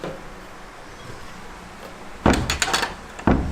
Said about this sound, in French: Je vais fermer la porte vite.